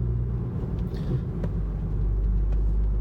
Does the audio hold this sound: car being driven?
yes